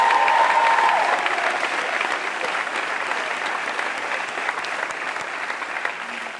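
A crowd at a cat-themed 2017 awards show keeps up a steady round of applause, dense and even clapping that eases only slightly in volume as it continues.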